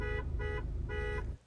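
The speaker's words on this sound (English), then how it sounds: "a horn that's much easier to hear from another vehicle that sounds like this" A loud aftermarket car horn on a 2022 Honda Civic Sport Hatchback honks three times in steady bursts, each about a third of a second, with a bright, brassy tone and no voices.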